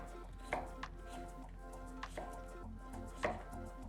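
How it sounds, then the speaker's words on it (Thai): Knife strikes chopping through firm pumpkin on a board into small pieces, a few sharp thuds spaced irregularly, close by, with a low steady hum underneath. "จะหั่นเป็นชิ้นเล็ก ๆนะครับ จะได้สุกเร็ว ๆ นะ"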